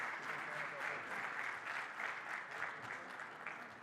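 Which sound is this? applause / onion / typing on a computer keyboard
applause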